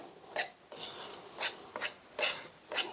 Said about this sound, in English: with a knife, just cut it through, just to incorporate the milk with your butter and your flour